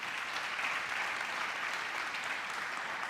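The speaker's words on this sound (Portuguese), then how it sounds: "Vamos dar um aplauso ao Senhor por isso aí." A church congregation applauds during a Sunday service, giving steady, even clapping at moderate volume that carries on without pause and without voices over it.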